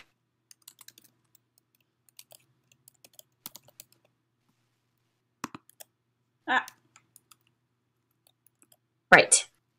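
Keys on a computer keyboard are tapped in sparse, light clicks while someone enters a short sum into a small program, with a couple of louder bursts of noise near the end and no talk.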